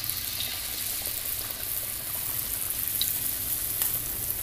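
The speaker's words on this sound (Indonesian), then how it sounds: "Ini minyaknya sudah panas, mari kita cemplungkan bakwan tahu atau tahu gimbalnya." Tofu fritters (bakwan tahu) in hot frying oil, a steady, even sizzle with a few small pops, close and with no voices.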